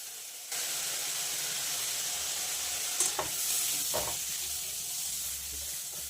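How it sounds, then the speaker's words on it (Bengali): Masala frying and being stirred in a pan, a steady close hiss of sizzling oil with a couple of spoon scrapes and clinks partway through, no voices. "এবার মশলাটা ভালো করে কষিয়ে জলটা দিয়ে দিই"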